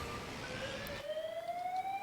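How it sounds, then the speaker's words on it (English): A fire alarm siren sounds in the Emergency 4 video game with a London mod, a steady electronic wail whose pitch slowly rises, loud and continuous for the whole stretch with no talking. "We got us a fire alarm!"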